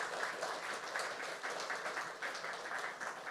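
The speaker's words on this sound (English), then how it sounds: "I want you to put especially a round of applause for this continued" An audience at the design reveal for a new JNF hospital applauds a partnership with Taiwan, producing steady, moderately distant clapping with slight swells over a few seconds.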